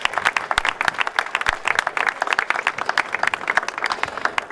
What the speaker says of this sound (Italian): artefice è stato il signor Lino Facchinetti, al quale farei anche un applauso